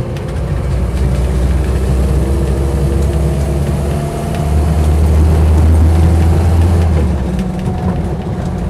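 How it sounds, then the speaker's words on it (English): A Land Rover Series III 88-inch soft-top with a converted 2.25 petrol engine runs steadily close by, a loud, even low rumble holding through the whole stretch with a faint exhaust rattle possible beneath it. "So engine starts nicely"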